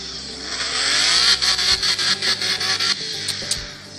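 A car engine in a driving video game starts and revs hard, a loud rising whine broken by a quick series of sharp throttle blips and gear-like pulses, then settling lower near the end.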